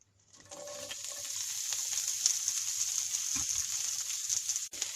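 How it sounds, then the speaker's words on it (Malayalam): Crushed ginger and garlic dropped into hot coconut oil for soya chunks masala curry, a sudden bright sizzle that holds steady and close, with a light stirring scrape partway through. "ഇനി ഇത് നമുക്ക് ഈ ചൂടായ വെളിച്ചെണ്ണയിലേക്ക് ഇട്ട് കൊടുക്കാം. എന്നിട്ട് നല്ലൊന്ന് വഴറ്റിയെടുക്കണം."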